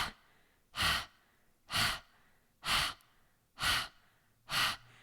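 Breath of fire in kundalini yoga: five forceful open-mouth panting exhales at an even pace about one second apart, close and breathy, with quiet pauses between.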